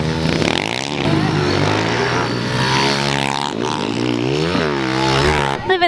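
A small pit bike engine revs hard during a lap in a backyard race, its buzzing note rising and dipping through gear changes, loud and close throughout.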